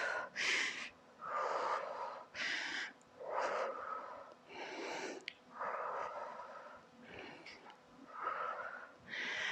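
Repeated forceful breaths, close and wheezy, come in a steady rhythm of about nine exhalations while a person holds a wall-sit against a wall, with short quiet gaps between them.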